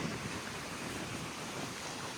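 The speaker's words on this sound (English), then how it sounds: "Oh, there's a waterfall." A waterfall on Madeira gives a steady, broad rushing roar heard alone at moderate distance, with no voices over it.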